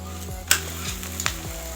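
A sweet pancake (meethe poode) sizzles in hot oil while a spoon scrapes and taps the pan a few times, close and moderately loud.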